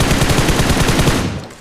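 Rapid automatic gunfire from the battle royale game BGMI rattles close and loud in a dense burst, then trails off quickly at the end.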